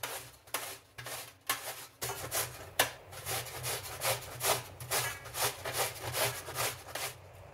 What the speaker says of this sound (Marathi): आंबा आपण आता किसून घेऊया।